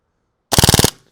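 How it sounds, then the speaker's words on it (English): An airsoft gun fed from a drum magazine fires one short full-auto burst of about eight rapid, loud, close snapping shots, then falls silent. "Let's do a full auto mag as well."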